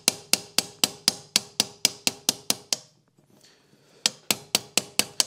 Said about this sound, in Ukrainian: А коли ви вже обидві сторони раз і два наживили, то вже можна і забивати